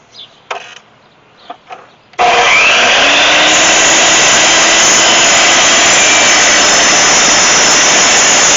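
A power saw starts up abruptly after a few soft knocks and cuts through a piece of wood measured to 11 inches, screaming loud and steady to the end with no talk over it.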